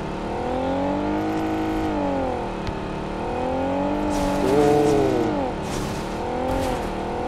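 A car drives in the PUBG video game, its engine droning loudly and continuously as it revs up and down in repeated rising and falling waves.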